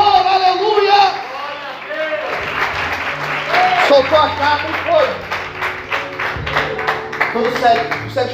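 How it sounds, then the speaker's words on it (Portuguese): A church congregation claps in praise, a dense rolling applause running for several seconds beneath a preacher's loud, continuous speaking. "Aplauda o Senhor, aleluia."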